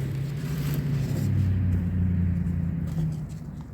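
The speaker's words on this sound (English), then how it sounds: "need to wait until this truck passes." A truck passes near an outdoor small-space container garden, a low steady engine rumble swelling through the middle and then fading, with no talking.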